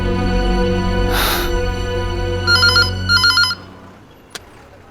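A telephone rings loudly in a steady electronic pattern, a few bursts of trilling, then stops, leaving a quiet room and a faint click.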